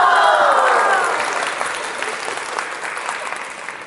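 A live audience at a Deyunshe storytelling show applauds loudly and steadily, the dense clapping tapering slightly over several seconds with no talk over it.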